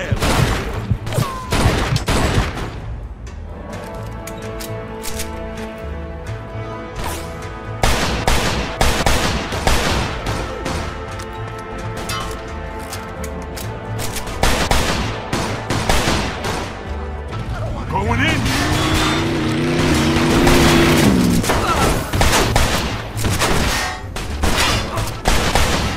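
Rapid bursts of gunfire from the Mafia 2 video game on PC, dense volleys of shots repeating throughout alongside game music and shouted voices.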